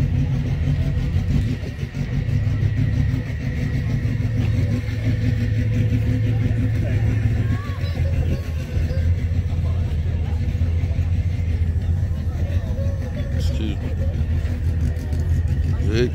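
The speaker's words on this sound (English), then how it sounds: "Big turbos." Turbocharged car engine with big turbos at a TX2K drag racing event, a loud continuous low rumble near at hand, idling with a few revs rising over steady crowd noise.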